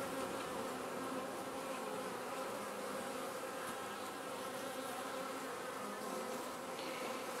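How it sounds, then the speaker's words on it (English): Dense, continuous buzzing of many honey bees swarming nearby, steady and loud with no pauses. "before this honey gets too much attention from other bees and yellow jackets"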